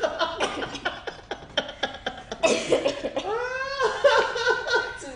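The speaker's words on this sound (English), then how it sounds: "She's coughing." Several sharp coughs come in quick bursts, followed by laughter and chuckling close by.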